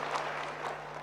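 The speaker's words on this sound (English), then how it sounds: "Can we give a big clap to our ministers?" Faint, distant audience clapping for ministers seated on the dais at a disaster-risk conference, a brief spell of steady applause under a low electrical hum.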